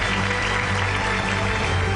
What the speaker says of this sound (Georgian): ახლა კი აპლოდისმენტებით შევხვდით ჩვენს დღევანდელ სტუმარს, ბატონი არკადი ჭოველიძე